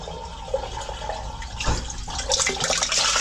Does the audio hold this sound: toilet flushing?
yes